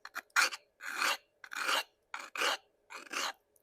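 A woodturning tool blade being filed by hand to raise a burr at the front bevel, a series of about eight crisp rasping strokes in uneven rhythm, close and fairly quiet with short pauses between.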